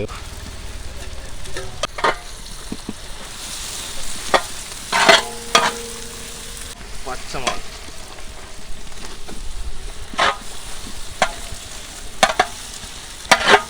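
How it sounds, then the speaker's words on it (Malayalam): Onions fry and sizzle in a large pot for a big-batch goat biryani, with a steady hiss broken by repeated scraping stirs of a ladle, loud and close, no talk. "ആ ഒരു ഉള്ളി ഇങ്ങനെ വാടി തുടങ്ങിയിട്ടുണ്ട്"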